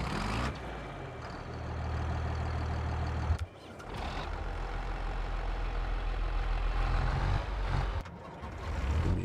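A tractor engine idles in Farming Simulator 22, a steady low rumble that runs throughout and briefly cuts out twice before resuming at the same level.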